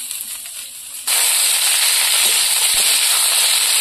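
Taro root dropped into hot oil over already-fried onions, a sudden loud sizzle bursting on and holding as a steady, dense hiss with faint crackles; quieter kitchen hiss precedes it.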